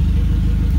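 A turbocharged car engine idles with its exhaust unbolted at the downpipe, a loud, close, steady throbbing rumble that pulses rapidly and evenly with no talk.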